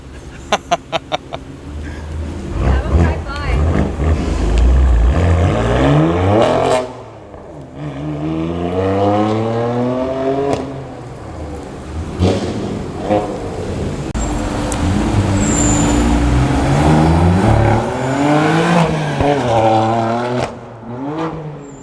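A BMW F80 M3 fitted with an AWE Switchpath non-resonated exhaust drives hard, its loud engine note rising and falling in repeated revving sweeps through gear changes.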